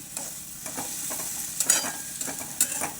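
Green chili thecha sautéing in a hot pan, with a steady close sizzle and repeated stirring scrapes over about three seconds, no voices.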